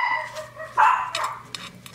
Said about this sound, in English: Excuse my doggies.